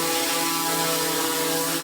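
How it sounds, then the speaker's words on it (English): Propellers of a DJI Mavic Classic drone flying, a loud, steady whirring drone with layered tonal whine and a rough mechanical edge, close and unbroken until it cuts off at the end. "This is the sound of the Mavic Classic."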